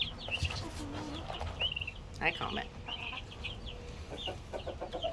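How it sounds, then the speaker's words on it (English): Black and white turkeys cluck and call nearby in short irregular bursts over a low background murmur, while a person briefly speaks. "Look at these beautiful black and white turkeys"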